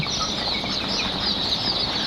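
Constant high-pitched chirping and peeping from many Fayoumi chicken chicks, dense and continuous, with no talking.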